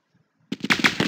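Enemy gunfire in an old version of Counter-Strike: a quiet pause, then a sudden rapid burst of loud, crackling shots fired in quick succession, close and alone.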